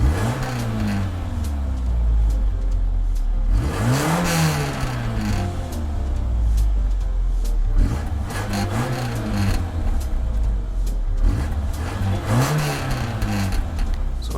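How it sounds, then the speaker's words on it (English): A 1987 Citroen BX19 TRS engine in Gran Turismo 7 revs up and down repeatedly in several rising and falling sweeps, loud and close, over a continuous engine drone. "That sprightly noisemaker is the Citroen BX19 TRS from 1987"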